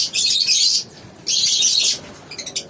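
Pet lovebirds in a cage give two loud, sustained bursts of shrill chirping close up, followed by a few short chirps.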